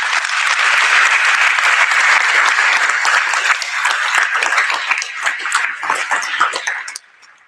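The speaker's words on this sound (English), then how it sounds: "So again, please, a round of applause for their wonderful efforts." An audience at a high school NJROTC change of command ceremony gives sustained, loud applause, a thick wash of many hands that thins gradually and cuts off near the end.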